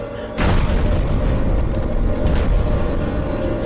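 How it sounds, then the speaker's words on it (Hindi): A sudden heavy boom erupts and gives way to a sustained, loud roaring rumble that lingers throughout, with a second muffled thud partway through. "ये कैसा धमाका?"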